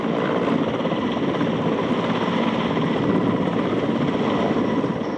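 Mi-17 military helicopter armed with rocket pods, a steady loud rotor and engine roar that stays constant and close throughout, with no talk.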